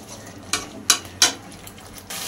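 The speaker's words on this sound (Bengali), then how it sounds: "নুন ও চিনি দিয়ে আরও সামান্য কিছুক্ষণ এটা কষিয়ে নেব" Masala being stir-fried with salt and sugar in a pan, a faint low sizzle broken by three distinct scraping strokes of a spatula and a louder rush at the end.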